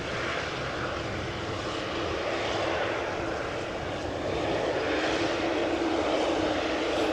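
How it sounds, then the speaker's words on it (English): A KLM Boeing 787-9 Dreamliner, arrived from Toronto, passes at Amsterdam Schiphol Airport with a loud, continuous jet roar that swells slightly toward the end, close by and unbroken by voices. "passing in the foreground will be KLM Flight 696, Boeing 787-9 Dreamliner arrived from Toronto, Canada"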